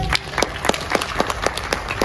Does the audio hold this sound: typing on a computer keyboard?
no